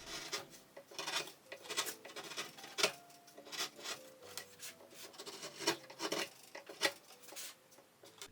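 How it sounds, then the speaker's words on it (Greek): A chisel pares the sawn corners off a wooden sign, producing repeated close scraping and rasping strokes in an uneven rhythm with small knocks between them. No voice is heard. "με ένα κύλο σκαρπέλο αφαιρώ τις γωνίες του ξύλου, εκεί που έκοψα με τη σέγα"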